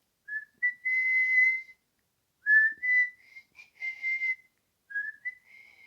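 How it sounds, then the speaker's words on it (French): A woman whistles the opening melody of a song, alone in a quiet room, in several sustained clear phrases separated by short pauses. "c'est un sifflement au départ"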